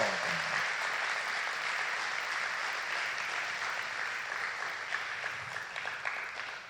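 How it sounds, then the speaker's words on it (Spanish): A church congregation applauds during a sermon, a continuous wash of many hands clapping at moderate distance, steady and fairly soft throughout. "Dale ese aplauso al Rey"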